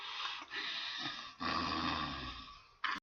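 A voice imitates a tiger's growl during a children's story read aloud: a breathy, snoring rasp in two long rumbling bursts, close and quiet, ending with a brief sharp exhale.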